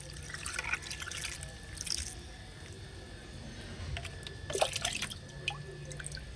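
Water poured from a mug into the soil of a potted parijatham (night jasmine) plant, soft dripping and trickling outdoors with quiet splashes, steady and faint, no talking.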